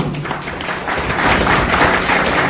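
An audience claps at a health care company award function honoring a top royalty achiever, a dense, loud wash of applause that swells slightly toward the end, with no talking over it.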